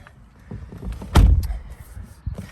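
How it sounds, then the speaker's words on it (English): A single solid thump of a Mercedes GLE 250 d 4MATIC door shutting, fairly close, with faint rustling and movement before and after. "Now climb in, close the door."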